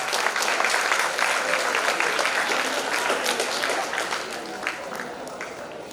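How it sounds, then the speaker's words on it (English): An audience at a Model UN conference claps in a loud, dense wave of applause that slowly fades toward the end. "Please give a huge round of applause."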